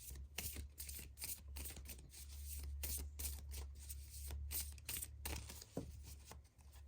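Tarot cards shuffled and drawn during a pick-a-card reading, a series of quick, close papery riffles and flicks repeating in irregular bursts over a low background hum.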